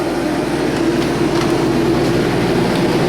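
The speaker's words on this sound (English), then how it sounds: "So we got the heat running, sorry about the noise." A workshop heater runs with a loud, steady drone and low hum, constant throughout with no pauses and no one talking.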